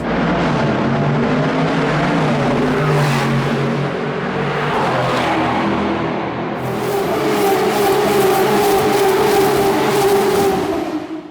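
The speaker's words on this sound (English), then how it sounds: "hearing the engines echoing around the buildings has got to be one of the cooler aspects of this circuit" Loud Formula 1 engines roar and whine continuously on the Baku street circuit, pitch rising and falling as cars pass, echoing off buildings, with a sharp high-pitched scream joining partway.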